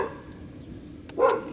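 A single dog barks once near the end, a short sharp burst after a quiet stretch of low outdoor background on a small-town road.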